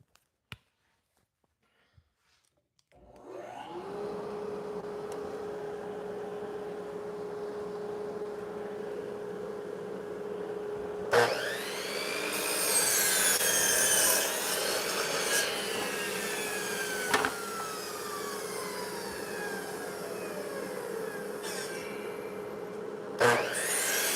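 Saw cutting scrap wood while a dust extractor runs throughout as a steady loud drone, with the blade whining up and down through several cuts and sharp bursts as it bites the wood.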